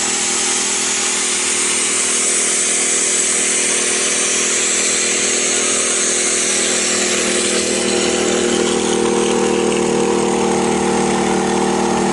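A Weekender 3500i inverter generator runs under load with a loud, continuous, steady engine drone and whine that holds unbroken, with no voices.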